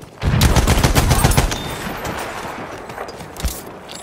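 Enemy machine gun fire in the World War II shooter Battlefield V: a loud, close burst of rapid automatic shots in the opening second and a half, then a trailing echo, with one more faint shot near the end.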